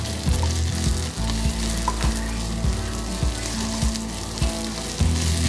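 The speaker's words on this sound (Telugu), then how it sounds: "ఇవి కూడా బాగా ఫ్రై చేసుకోవాలి." Chopped green chillies fry in hot oil for vegetable oats upma, giving a steady close sizzle with periodic stirring scrapes and a low hum underneath, with no voices.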